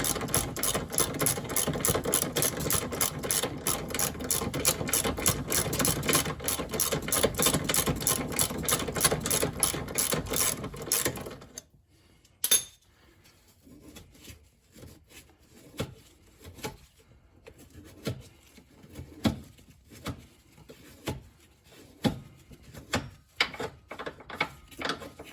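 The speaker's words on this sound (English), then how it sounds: "we're starting to loosen up the top bolt. Takes a 17 millimeter" Rapid clicking of a ratchet with a 17 mm socket loosening a rear suspension bolt on a 2006 Honda Pilot, a dense fast run of clicks for about eleven seconds, then slower separate ratchet strokes with pauses.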